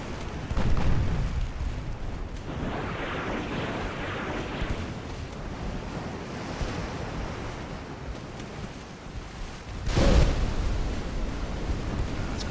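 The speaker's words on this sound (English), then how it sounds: "That chase torpedo actually going to hit us" A torpedo striking a ship in Ultimate Admiral: Dreadnoughts, an 1890s naval battle, with heavy surging roars of explosion and churning water, a burst near the start and another loud blast near the end over continuous rumble.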